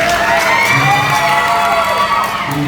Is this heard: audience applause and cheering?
yes